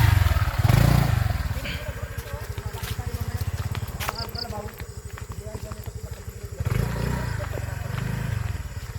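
A motorcycle engine idles and chugs with a rapid, steady putter near a water buffalo outdoors, revving louder at the start and again near the end, with people talking over it.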